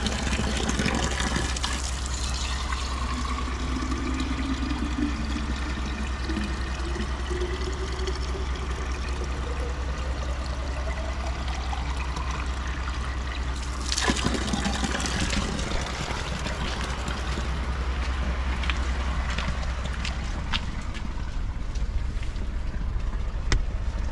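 Water from a forest spring in Bald Eagle Forest pours and gushes steadily as a container fills, a constant close wash of flowing water with a brief louder splash midway.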